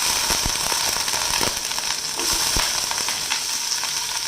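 Onion frying in hot oil left over from frying nuts and raisins, sizzling in a steady hiss with occasional crackles and soft stirring clicks, close and without talk.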